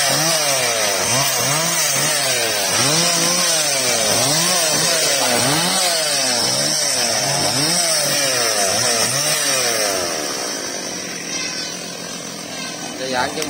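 A Stihl 381 chainsaw roars close by cutting a rain tree, its engine pitch rising and falling in a repeating rhythm as it cuts into wood, then easing off near the end.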